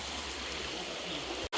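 Stream water flows continuously at a Jamaican riverside in a steady, moderately loud rushing wash that cuts out abruptly near the end.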